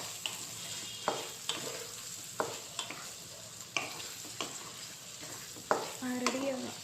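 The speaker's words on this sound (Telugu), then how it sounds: "ఇందులోకి అన్నీ మిక్స్ అయ్యాక బాగా వేయించుకోవాలి ఆయిల్లోని." Meal maker chunks and onions fry in oil, stirred with a utensil that gives a steady run of sharp scraping strokes over a soft sizzle, close up, with no talking.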